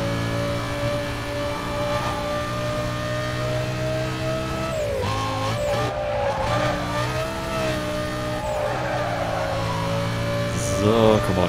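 Race car in the Need for Speed Most Wanted video game, a loud sustained engine roar with shifting revs, a brief dip and gear change midway, then a tire squeal near the end.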